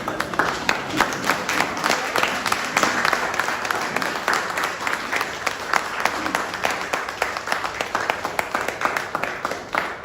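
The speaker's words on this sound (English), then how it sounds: "Friends, can we actually stand and clap?" An audience stands and claps at a live-streamed event, steady dense applause filling the room for the whole stretch, with a murmur of voices underneath.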